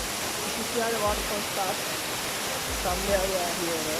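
A waterfall inside a tea estate in Torrington roars steadily and loudly from close by, filling the whole scene as someone speaks briefly over the rushing water.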